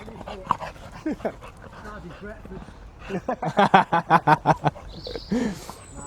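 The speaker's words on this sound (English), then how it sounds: "Oh, that's a dog." A big dog close by, whining and yipping, then a rapid burst of rhythmic panting or short barks, mixed with people talking nearby.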